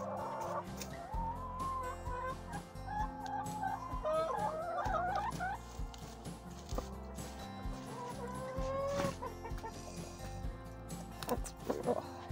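Hens cluck and squawk in a busy, overlapping chorus during a deep-cold Canadian winter, with sharp agitated calls rising above steady low-pitched clucking throughout.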